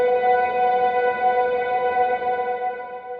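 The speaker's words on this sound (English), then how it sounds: "we made this piano sound like a drone" A piano chord swamped in very long-decay reverb and effects, stretched into a steady, sustained drone with stable harmonic tones, loud and even throughout, no voices.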